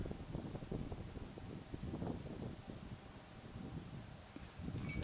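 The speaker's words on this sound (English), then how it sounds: "It's blustery out there" Blustery wind gusting across an outdoor golf course, a steady low rushing roar buffeting the microphone at low level throughout, with no one speaking.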